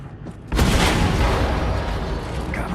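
An explosive tank blows up in the shooter Wolfenstein II: The New Colossus, a sudden loud blast after a brief lead-in, then a long roaring rumble of debris and fire that stays heavy to the end.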